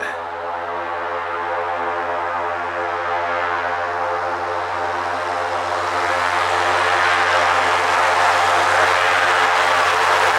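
A small propeller airplane of an aviation service drones steadily and loudly nearby at a remote hunting camp in late-season Idaho, its engine tone holding constant and swelling slightly louder toward the end.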